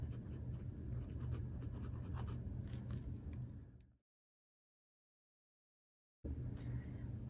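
A fine-nib Benu Talisman Edelweiss fountain pen inked with blue-gray scratches across MD paper in close, faint strokes. The writing runs for about four seconds, breaks into a gap of silence, then resumes briefly.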